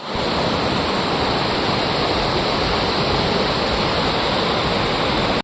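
Njandirukki waterfall roaring in a constant loud, dense rush of falling water heard up close, with no break or voices.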